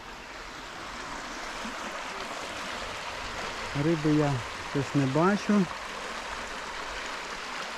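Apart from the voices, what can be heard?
fast-flowing Opir mountain river in the Carpathians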